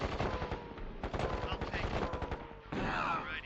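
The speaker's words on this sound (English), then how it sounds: "the survivor units here have just a crap load of machine guns" Rapid machine-gun bursts from survivor units in the KKND strategy game, dense overlapping automatic fire with a fresh loud volley near the end and no talk.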